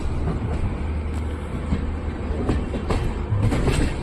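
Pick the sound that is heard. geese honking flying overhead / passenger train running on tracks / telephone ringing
passenger train running on tracks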